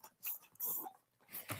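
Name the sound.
dog whimpering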